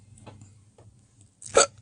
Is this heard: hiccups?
yes